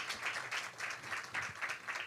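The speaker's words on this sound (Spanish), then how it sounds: "Así es que un fuerte aplauso a Dr. Gavin Peters." Applause from the audience at a regional panel meeting on food safety data management: steady, fairly faint clapping from a crowd, with no voices over it.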